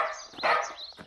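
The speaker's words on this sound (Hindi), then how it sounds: "अरे यह कोई कुत्ता भौंक रहा है।" A dog in a Chacha Chaudhary animated cartoon gives a couple of sharp, close barks in quick succession, with a brief clatter at the end.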